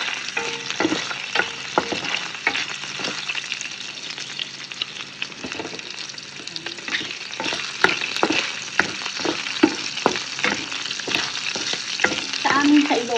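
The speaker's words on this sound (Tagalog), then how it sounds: "lumalabas na ng mantika ng taba ng baboy" Pork fat rendering its oil in a pan sizzles loudly and continuously, broken by frequent pops and spatters and a few stirring sounds, close up and with no talking.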